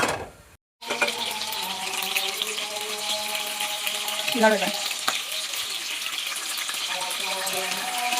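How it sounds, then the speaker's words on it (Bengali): Chicken pieces fry in hot oil in a pan with a loud, steady, close-up sizzling hiss that runs throughout, while a voice or faint tonal sounds sit underneath. "আমি একটু চিকেনটাকে ভাজা ভাজা করে নিলাম"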